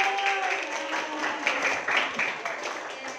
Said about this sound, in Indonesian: Ayo tepuk tangan buat Mas Fatur